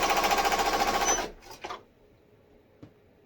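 An embroidery machine stitches a burp cloth held in the hoop, a rapid rhythmic mechanical whirr that stops abruptly after about a second, followed by a few faint clicks and knocks.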